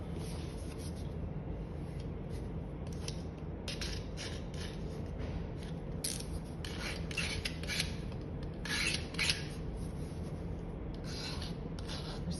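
Cutting the table-top piece of an interior model by hand, a steady rasping, scraping stroke repeated in close, irregular bursts over a low background, with no talk.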